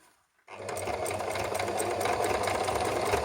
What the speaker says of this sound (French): Et là, ça va bien coudre en zigzag